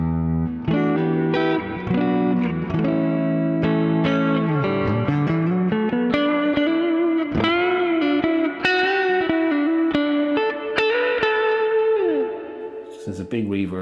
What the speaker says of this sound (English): So there's a big reverb.